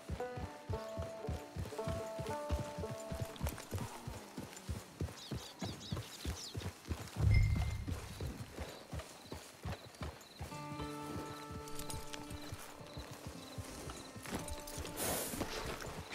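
Horse hooves clip-clopping at a brisk, rhythmic pace in Red Dead Redemption, over a steady run with a brief whinny or snort midway and music-like tones in the background.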